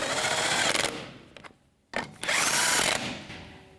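An impact tool drives lug nuts onto a wheel of a 2002 Dodge Dakota with a 19mm socket, two loud close bursts of rattling whir separated by a short pause.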